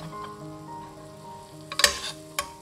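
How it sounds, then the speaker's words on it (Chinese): Pan-fried dumplings sizzle in a pan with a soft, steady crackle, followed by a few sharper bursts of spattering near the end. "你煎的时候记住哦，不要煎到太金黄哦，只是微黄就好了"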